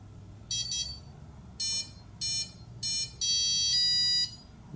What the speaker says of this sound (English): So now it's beeping.